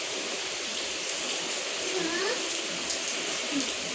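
Heavy rain falling at night around a small roadside shop, a loud, even, continuous hiss filling the background, with a faint animal cry briefly heard.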